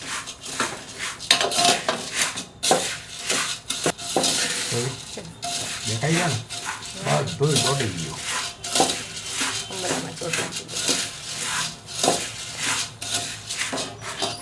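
A metal spoon scrapes and clatters against a hot pan while Bombay bhel with thick khaman is mixed. The clinks and scrapes come in quick, uneven bursts, with a brief voice partway through.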